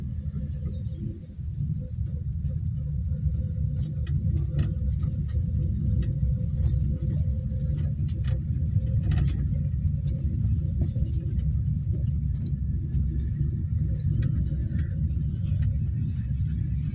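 A car rolls along steadily during a driving lesson, a constant low engine and road rumble with a few faint clicks and rattles inside the cabin. No one speaks.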